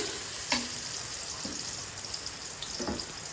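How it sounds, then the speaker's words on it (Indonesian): Food stirred while frying in a pan at home, a steady sizzle with a few scrapes of the spoon against the pan, close and fairly quiet, no talking. "Aduk lagi."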